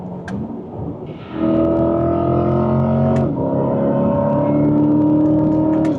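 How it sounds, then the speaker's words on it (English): A Corvette E-Ray accelerates hard, its electric motor giving a rising tonal whine over engine rumble, steady and loud, dipping briefly as a gear changes before climbing again. "that whine from the electric motor is so interesting"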